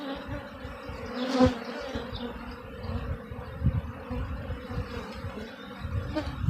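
Honeybees buzz steadily at close range around a hive, foragers flying from a tote, a dense droning hum with individual bees passing near.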